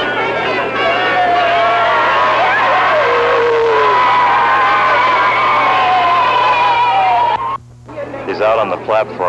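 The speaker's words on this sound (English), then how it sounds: "On the platform, the supporters cheering" A crowd of supporters cheers at a Robert F. Kennedy campaign train platform in Eugene, Oregon in 1968, a steady roar of voices and shouts heard through an old radio-like recording, with talk in the mix and a brief dropout near the end.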